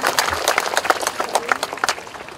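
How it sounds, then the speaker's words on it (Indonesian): An audience at the opening of the Flona 2019 exhibition claps in a dense, steady round of applause that lasts a couple of seconds, with no voices over it. "Kita beri tepuk tangan untuk mereka yang terlibat di sini."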